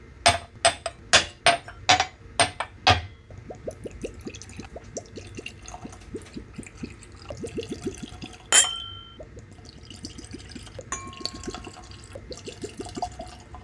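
Whiskey samples poured into a row of glasses for a seven-way blind tasting of single barrel picks: a run of sharp glass clinks opens, then long stretches of quick, rising liquid glugs and trickles, fairly close and with no talk.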